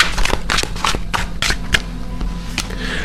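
An oracle card deck, the Voyage of the Soul, being shuffled by hand in a rapid run of crisp riffling bursts and flicks, close and fairly loud, with no talking.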